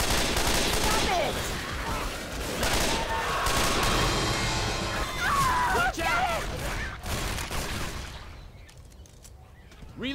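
Rapid overlapping gunfire in Left 4 Dead 2 as several players shoot at once, with dense bursts through most of the stretch, voices shouting over it, and the shooting thinning out near the end.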